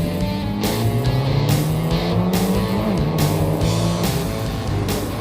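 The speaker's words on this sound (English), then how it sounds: "Seeded 14th Omani Laith Moali in an all-wheel drive class Mitsubishi Evo 4 would set the 7th quickest time in the first heat" An all-wheel-drive Mitsubishi Evo 4 rally car runs an autocross course in Sharjah, its engine droning loud and close with steady revs, broken by regular rasping bursts of tire and exhaust noise.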